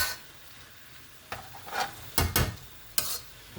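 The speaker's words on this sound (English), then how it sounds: "allow this to simmer for like 3-5 minutes while my rice is cooking on the other side of the burner" Sauce for Nigerian fried rice cooks on a stovetop with a low, soft hiss, broken by a few brief scraping and stirring clatters near the end, quiet and without voices.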